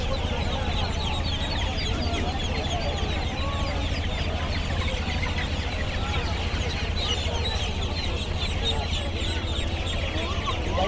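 Chickens and chicks cluck steadily at a busy poultry market in Tongi, with bird calls overlapping throughout under a constant crowd murmur and occasional nearby talk.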